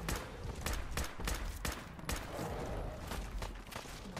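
Rapid bursts of gunfire in Fallout 4 as a deathclaw is shot at, sharp repeated shots in an irregular volley, loud and close throughout.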